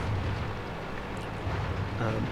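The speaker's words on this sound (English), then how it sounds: "Now at this point I'm totally out of normal ammo. I'm having to fire heat." A tank cannon firing a HEAT round in World of Tanks, on a Karelia battle map: a muffled low boom with a rumbling tail, set within continuous dense game noise.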